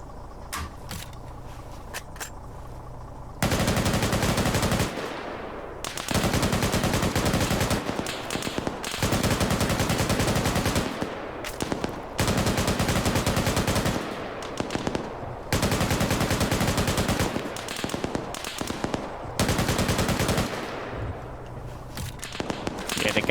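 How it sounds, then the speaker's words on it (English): Long, loud bursts of automatic gunfire in the military shooter Arma 3 rattle in several sustained volleys separated by short pauses. "Yeah, the gunshots going off from that other cell."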